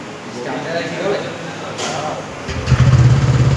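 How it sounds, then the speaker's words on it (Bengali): A new motorbike engine idles nearby, then revs up into a louder, rough rumble, with people talking over it. "গাড়ির আওয়াজটা শোনা আওয়াজটা দেখেছো পুরো বাইকের"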